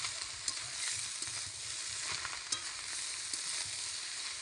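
Chunks of meat for kodai biryani sizzle and fry in a pot, with a steady broad hiss broken by scattered scraping clicks and knocks as the spoon stirs them, close and alone with no voices.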